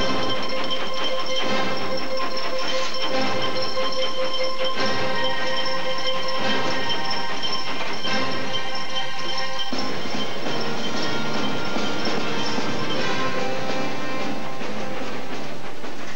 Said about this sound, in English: This is the loco, our first steam loco that we operated here, which is ex-Burnley gas board.